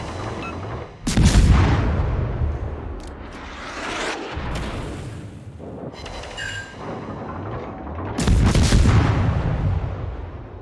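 Destroyer naval guns fire in World of Warships, with heavy booming salvos at about one, four and eight seconds, each trailing into a long rolling rumble over steady engine and sea ambience.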